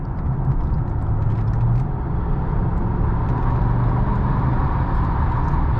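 A 2015 Mercedes-Benz S550 drives along, and its V8 engine and road noise make a continuous, fairly loud drone heard from the cabin with no talking.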